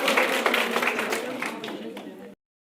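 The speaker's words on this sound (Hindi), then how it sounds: "ताली" A school audience at an awareness program claps for a quiz competition winner, a dense burst of applause that stops abruptly.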